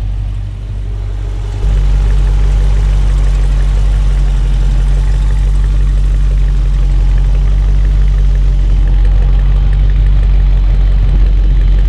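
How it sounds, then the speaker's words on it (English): A 2019 Dodge Charger SRT 392 Scat Pack's deep, steady V8 exhaust idle with a heavy low rumble, starting quieter and then jumping louder after a moment, running alone with no talking. "Let's get a good hear in that exhaust"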